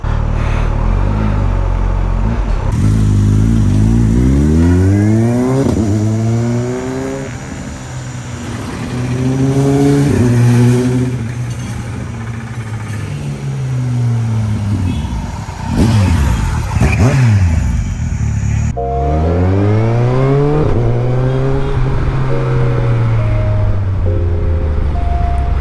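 Superbike engine revving and sweeping past in repeated fly-bys, pitch climbing through gears then dropping as it passes, loud and close with steady road noise beneath.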